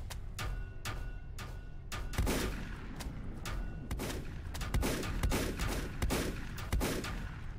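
In the video game Volcanoids, a turret fires repeated gunfire bursts with sharp irregular cracks and thumps over a dense, noisy battle background throughout.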